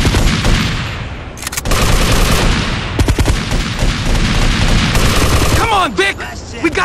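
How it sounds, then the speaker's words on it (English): Gunfire in GTA Vice City Stories: loud, dense bursts of shots crackle back to back with a brief lull, sounding like a heavy firefight, with voices speaking amid the shooting. "Sure, it's a gun."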